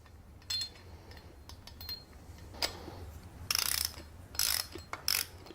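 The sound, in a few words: driving 12 mm nut with socket wrench on 2-stroke engine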